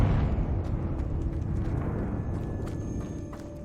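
A Confringo blasting spell goes off in the Hogwarts Legacy catacombs, a dull rumbling blast followed by scattered clattering debris and crackles, moderately loud with no speech.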